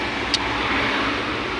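Steady road traffic rumble heard from inside a car stuck in heavy Saturday traffic on the way to Cainta, a continuous low drone with a brief faint tick early on and no talking.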